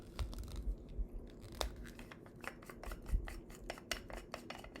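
The cap of a plastic SCI Cuisine International 2.75-inch square egg press is twisted open, giving a quiet, close rasping rub of plastic threads with small ticking clicks.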